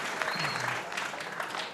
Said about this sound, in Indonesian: tepuk tangan untuk sahabat kita